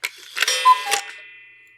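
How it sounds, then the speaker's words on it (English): A cuckoo clock sound effect: short tonal chimes with ticking clicks, ending in a bright ringing tone that slowly fades away. "A cuckoo clock."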